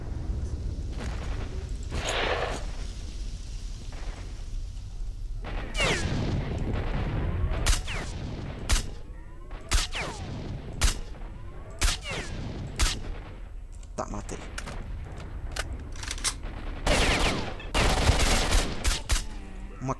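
Gunfire in the shooter S.T.A.L.K.E.R.: Shadow of Chernobyl in the abandoned city of Pripyat: a quiet start gives way to irregular bursts and single shots, sharp cracks with echoing tails, some close and loud, others further off.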